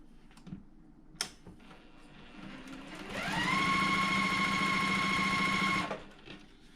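A sewing machine joins white and teal quilt squares, starting after a few quiet handling clicks and then running steadily at close range for about three seconds with a fast, even whirring hum before stopping.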